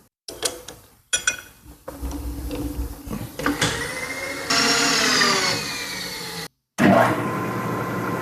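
A drill bit bores through aluminum for a homemade bench vise, giving a loud, close mechanical whine that starts, stops and rises in pitch across several bursts with short silent gaps.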